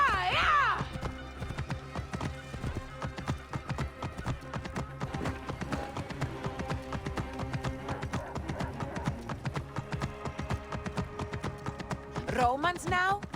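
Horse hooves clip-clop at a steady gallop in the video game Assassin's Creed Origins, a rapid rhythmic drumming under ongoing talk, with neighs breaking out at the start and again near the end.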